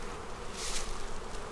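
Spring honey bees swarm thickly around an open, crowded hive as a super is added, a dense continuous buzzing hum close by with no other sounds.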